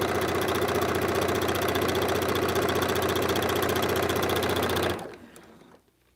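A sewing machine stitches fabric through paper foundation strips, running in a fast, steady, loud whir for about five seconds before stopping abruptly and trailing into quiet.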